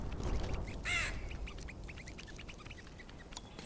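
Crows caw in the Tearaway Unfolded game, a single harsh call rising loud near the first second above a busy game backdrop, followed by fainter scattered chirps and clicks.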